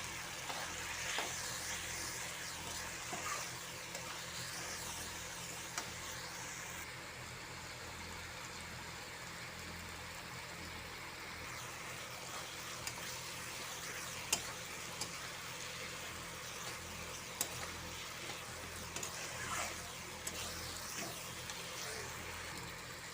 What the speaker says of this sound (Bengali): এইবার আমি ভেজে রাখা আলু আর পটলটা দিয়ে দেব। ভালো করে কষাবো।